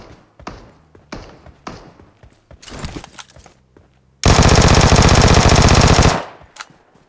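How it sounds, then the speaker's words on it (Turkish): In PUBG Mobile on the Erangel map, several scattered single shots ring out, then a loud, sustained burst of rapid automatic fire lasting about two seconds before fading. "Önümde silah sesi."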